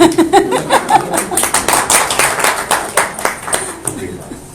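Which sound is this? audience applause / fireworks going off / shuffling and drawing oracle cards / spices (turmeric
audience applause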